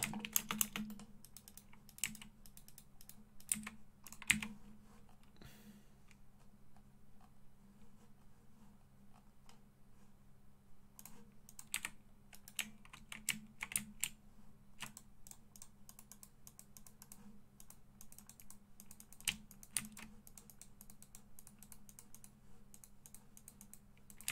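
Computer keyboard typing during a livestream: faint, steady, close clicking of keys in irregular runs and short pauses, with a low background hum and no voices.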